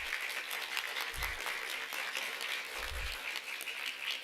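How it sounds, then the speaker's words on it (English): An audience at an elementary school spelling bee in Merced County applauds the students, a soft, even wash of many hands clapping at a distance, with two low thumps partway through. "I want to give all of the students that are out so far a big round of applause."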